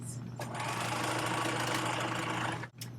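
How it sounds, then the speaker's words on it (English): A sewing machine runs steadily, stitching a row of gathering stitches along the long side of fabric for a millinery project, with a continuous motor whir that stops abruptly near the end. "now that we've run our gathering stitches, that's all we need the sewing machine for"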